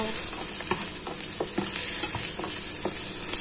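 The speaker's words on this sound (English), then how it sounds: "First, fry the potato," Potato frying in a pan for a beef torta, a steady close sizzle with scattered stirring scrapes and clicks throughout, no voices.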